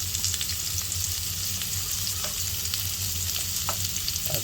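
Potatoes frying in a pan for aloo dum as turmeric and chili powder go in, a steady close sizzle with faint stirring scrapes and no talk.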